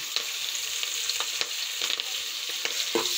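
Green chillies and curry leaves frying in hot oil with turmeric, a steady close sizzle with occasional sharp crackles and pops as the pan is stirred.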